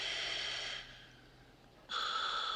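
Breathing in a film scene, a steady breathy rush that fades to a quieter stretch before a louder breath returns, with no talk over it.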